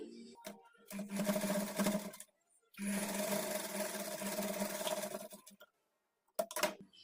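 Sewing machine running in two long bursts while stitching a kurti shoulder joint, loud and steady with a gap between runs and a brief restart at the end.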